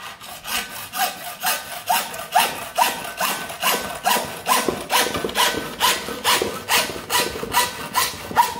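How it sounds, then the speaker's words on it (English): A hand saw cuts through PVC pipe close to a cemented elbow fitting, giving quick, rhythmic rasping strokes at about two per second, loud and close, with no talk. "So first thing, you have to cut the pipe."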